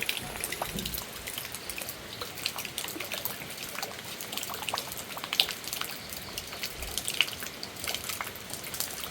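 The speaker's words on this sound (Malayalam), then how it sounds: "നല്ല മഴയാണ്" Steady rain patters and hisses throughout, with scattered drips and splashes standing out over a dense, even wash of falling water.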